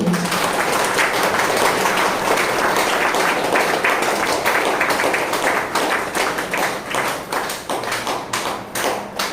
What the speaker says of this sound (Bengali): তো সেই বাবা মার জন্য প্রত্যেকের একবার জোরদার হাততালি চাইব।